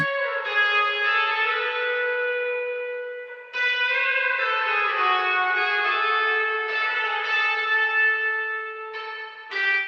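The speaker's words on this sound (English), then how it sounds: "give us the return from the plate reverb there" Sustained, ringing bell-like tones from an EMT 140 plate reverb unit wash out in long reverberant tails, restarting a few times with a bright, metallic shimmer and no talking.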